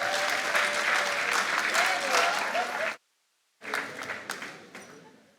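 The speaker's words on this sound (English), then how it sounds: "Can we give them a big round of applause, please?" Audience at an anniversary celebration for the Development Bank of Namibia applauding, steady clapping that cuts off abruptly, then resumes more sparsely after a brief silence.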